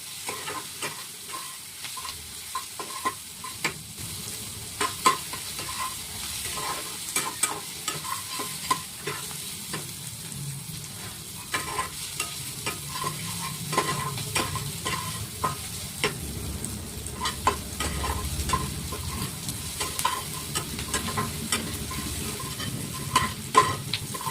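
Spiced curry sautéing in a pan on a gas stove, a soft continuous sizzle broken by frequent scraping stirs of a spoon against the pan, close and moderately quiet, with no talking.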